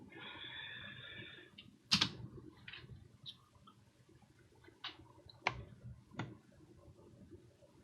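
Sparse, faint clicks from a computer keyboard being typed on at a desk, coming in scattered single taps and short clusters with quiet gaps between them.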